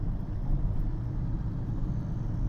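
Steady low engine drone from a manual car cruising in city traffic just after a downshift from fifth to third gear, a continuous near hum with no talk.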